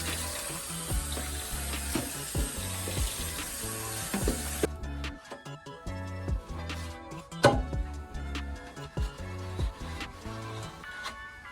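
Water from a tap runs and splashes steadily over a soapy RC car body being rinsed out, with clattering handling noises as the plastic shell is turned under the stream; the flow cuts back midway and then continues more faintly.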